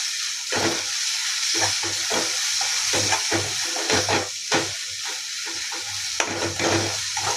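Turmeric and coriander powder being stirred in hot oil in a pan, a bright sizzle under repeated rhythmic scraping strokes of a spoon, close and fairly loud.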